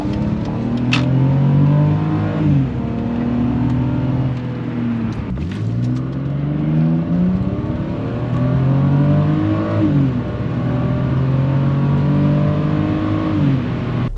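A 25-year-old BMW E46 all-wheel-drive sedan accelerates through the gears from inside, the engine note climbing repeatedly and dropping at each shift, loud and steady with no talk.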